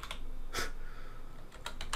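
Typing on a computer keyboard: a short burst of quick, close key clicks, then a pause and a few more scattered keystrokes, with no voices.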